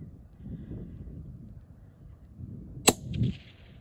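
A single sharp rifle shot fired at a target cracks out once, close and loud, against a quiet low background hum, followed by a brief mechanical clatter.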